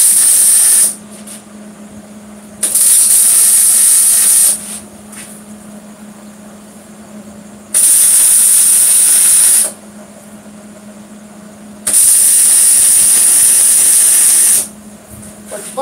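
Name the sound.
MIG welding with .030 wire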